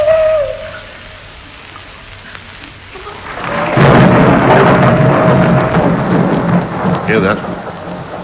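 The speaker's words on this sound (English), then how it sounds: "Owl hoot and a thunderstorm." Radio drama sound effect of an owl hooting followed by a thunderstorm: a faint hoot at the start, then a loud clap of thunder rolling into steady pouring rain, with a soft voice briefly in the background.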